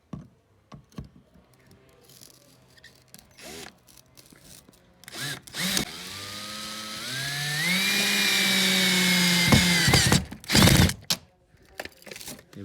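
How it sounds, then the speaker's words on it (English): A power drill drives a screw into a door while a weather strip seal is refitted. It spins up loud and close with a steadily rising whine, holds for several seconds, then cuts off, with short bursts before and after. "it'll sit long enough for me to start the drill, and then we can just drive it straight in"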